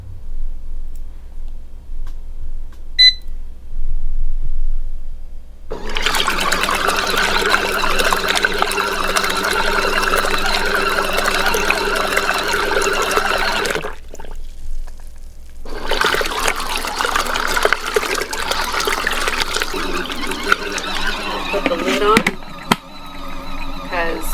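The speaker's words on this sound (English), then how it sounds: "the little washer finished doing its thing. It was on 5 minutes, washing that little towel." A small portable TEMU washing machine in an RV churning a little towel in soapy water, two long stretches of sloshing, splashing agitation separated by a short pause, with a voice heard at times.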